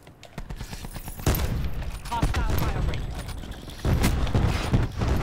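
Tap-fired shots from a Rampart rifle in Call of Duty: Black Ops 4 crack in quick separate bursts at first, then merge into a dense, loud stretch of overlapping game gunfire.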